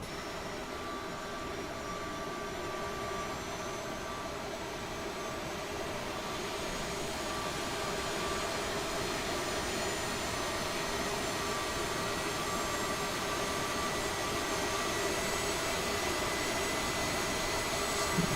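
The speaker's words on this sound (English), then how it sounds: "Looks like a good start on that right engine." Aerosoft CRJ jet engine starting in Microsoft Flight Simulator, a continuous roar with steady whining tones that builds slowly and evenly over many seconds, heard alone.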